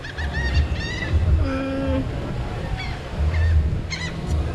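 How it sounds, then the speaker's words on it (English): Seagulls call near the water on Royal Caribbean's private island Perfect Day at CocoCay, several loud honking, laughing cries in scattered bursts over a steady wash of surf and crowd noise. "there's all these seagulls that are looking to steal my food."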